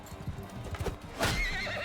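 A horse in the medieval combat game Mount & Blade II Bannerlord gallops with quick thudding hoofbeats and then gives a loud, close whinny near the end.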